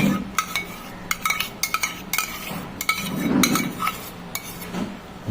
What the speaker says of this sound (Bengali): মিশিয়ে ভালো করে মিক্স করে দেবো।